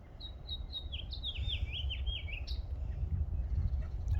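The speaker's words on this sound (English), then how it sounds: "listen to the birds for a moment" Small birds chirp on a farm in Albany, Oregon, giving a quick run of high descending tweets early on and then a lone sharp call, faint and a little distant over a soft outdoor rumble.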